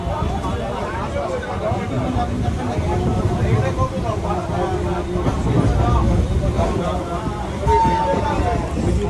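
A Bardhaman-Howrah chord line super local train rolls into Howrah station with a steady loud rumble and rattling carriages, wheels clattering on rails, and a murmur of passenger voices in the background.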